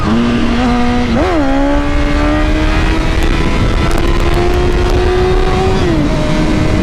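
A Honda CBR1000RR sport motorcycle revs hard for a wheelie, a loud sustained engine whine with a quick blip and steady climbing pitch, close and continuous throughout.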